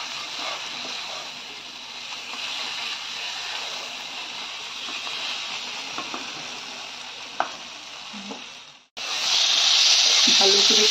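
Ground cashew paste with a little water fries in a pan, a loud continuous hissing sizzle with faint stirring scrapes, then a brief drop before an even louder burst of hiss near the end.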